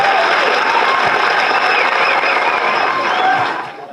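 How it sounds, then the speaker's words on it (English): An audience at a political gathering of Peter Obi supporters in Delta State applauds loudly and continuously, a close, dense crowd clapping that fades slightly at the very end. "A round of applause for him."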